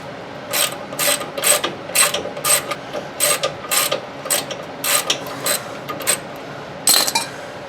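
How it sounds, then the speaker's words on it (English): A ratchet wrench clicking in repeated short bursts during transmission removal on a 1996 Dodge Cummins 4x4 with a 5-speed, close and loud, about a dozen quick ratcheting strokes with brief pauses between. "behold the ratchet in its natural habitat"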